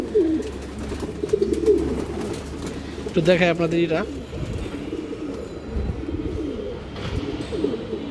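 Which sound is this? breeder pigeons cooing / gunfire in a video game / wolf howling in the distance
breeder pigeons cooing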